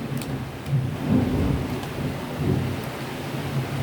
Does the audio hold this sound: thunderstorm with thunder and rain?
yes